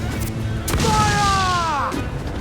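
Ship cannons fire during a naval battle in Assassin's Creed IV Black Flag, booming blasts mixed with shouting crew voices and a rising whistle-like tone, busy and loud throughout.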